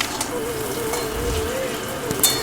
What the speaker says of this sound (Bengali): বেগুনগুলো একটু হালকা কালারের করে ভেজে নেব